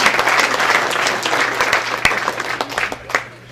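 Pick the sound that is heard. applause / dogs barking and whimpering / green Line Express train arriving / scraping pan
applause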